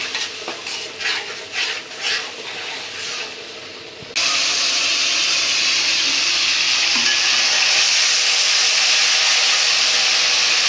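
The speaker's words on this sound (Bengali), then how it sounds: "দিয়ে দিব আদা রসুন বাটা। এখন মশলাটা একটু কষাই নিই।" A spice paste of ginger and garlic with a little cumin fries in a pan while being stirred, first with scraping strokes and then a loud, steady sizzle that holds close and unbroken, with no talk.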